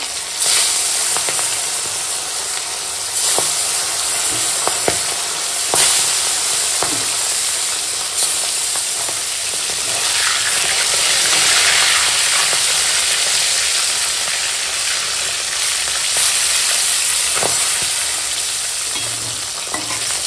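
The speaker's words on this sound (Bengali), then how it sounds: "লবণ হলুদ দেওয়া হয়ে গেছে আর তেল গরম হয়ে গেছে। তো মাছগুলো এখন সব কটা ভেজে নেবো।" Turmeric-and-salt-coated rohu fish pieces fry in hot oil, giving a steady, close sizzle and crackle with occasional spatters and light stirring or turning sounds, no voices.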